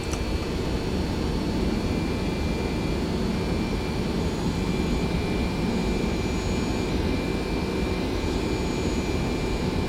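Jet airliner engines at takeoff power in the X-Plane flight simulator, a loud, dense, unbroken roar with a faint high whine running steadily throughout, no voices.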